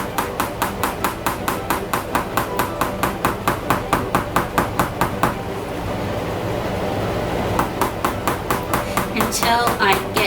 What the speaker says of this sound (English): I'm just going to hammer my nail in here to make the hole.